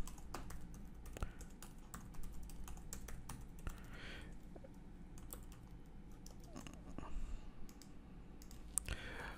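Someone types a username and password on a computer keyboard, with quick, irregular key clicks that run throughout at close range against a low background hum.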